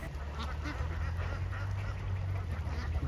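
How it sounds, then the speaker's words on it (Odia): Ducks gathered near a duck farm in shallow water, giving a steady chorus of quacks and honks at moderate distance over low outdoor rumble. "ବାପରେ ବତକ ଦେଖୁଛନ୍ତି"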